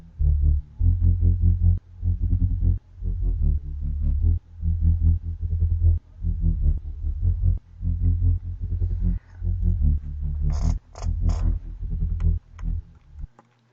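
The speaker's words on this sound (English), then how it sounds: "I layered 3 basses together to make it like this." Three stacked synth basses in an electronic song, a thick low pulsing line repeating in steady bars, loud and close, with a few bright higher synth stabs near the end and no voices.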